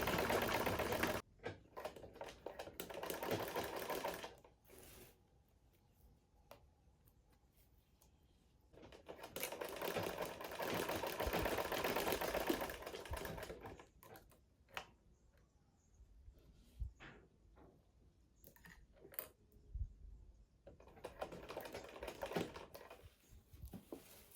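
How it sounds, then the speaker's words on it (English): A sewing machine stitches lace around the neckline of a Yoruba iro and buba outfit, running in rapid bursts of fast mechanical clatter with short pauses in between. "I'll be sewing it round, but I'll make sure that part of the lace is coming out"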